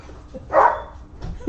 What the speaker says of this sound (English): he doesn't have a quiet bark